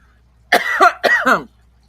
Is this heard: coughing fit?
yes